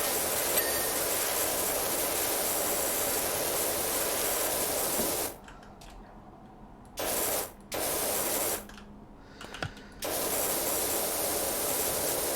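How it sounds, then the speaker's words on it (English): Power washer spraying in a power washing video game, a broad steady hiss that runs loud for several seconds, then cuts off and restarts in short bursts before resuming steadily, with no talking. "Just gonna do a quick spray down of the whole outside, and then I'll deal with the details."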